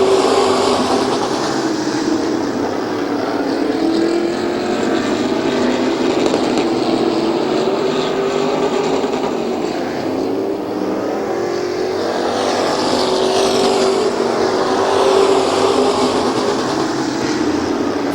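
Race cars battle for position on the Midvale Speedway oval, including the number 17 and number 12 cars side by side. A dense, steady engine roar fills the whole stretch, with pitch swelling and fading as the pack moves around the track.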